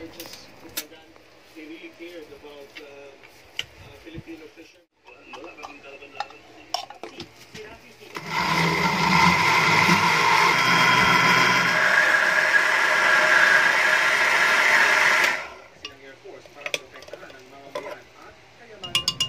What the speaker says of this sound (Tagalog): So after natin ma-mix sa blender yung ating mga cream